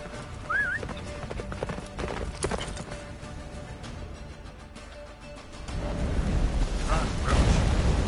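Geralt's horse Roach galloping in The Witcher 3: Wild Hunt near Kaer Morhen, steady rhythmic hoofbeats with a brief whinny, under rumbling battle and explosion noise that swells toward the end.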